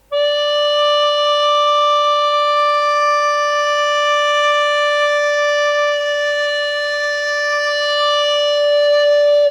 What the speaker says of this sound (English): I'm going to play a long note on my recorder